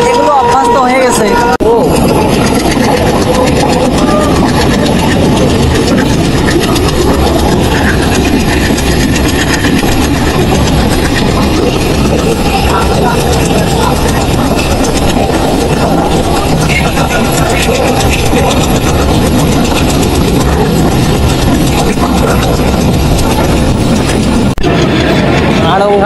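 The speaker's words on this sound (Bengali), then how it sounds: "আর এটি আমাদের দেশের ট্রেন, বাংলাদেশের ট্রেন এরকম হয়ে থাকে।" A Bangladeshi passenger train runs on the rails near Khulna, its continuous heavy rumble and rhythmic clickety-clack loud and steady throughout, with faint passenger chatter underneath.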